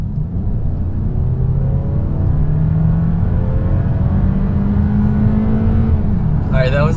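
A 2019 Toyota Camry XSE accelerates hard, its engine revving steadily higher through the gears as a loud, continuous drone heard from inside the car, with brief voices at the end.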